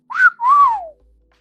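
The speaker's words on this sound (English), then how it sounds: "I already know how to whistle." A person whistles two clear tones close to the listener: a short rising note, then a longer note that swells and falls away, followed by near silence.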